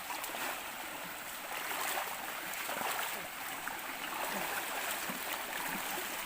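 A clean, clear river flows at a deep stretch, giving a steady hissing water wash with faint splashes and gurgles, moderately close and even in level throughout.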